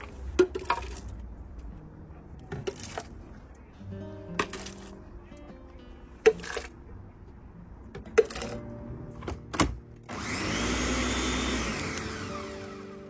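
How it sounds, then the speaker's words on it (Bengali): Clinks and knocks of handling a blender jar give way to a loud, steady whir of a blender puréeing boiled garden red chilies for hot sauce, running continuously near the end. "এখন এটাকে আবার ব্লেন্ড করতে হবে।"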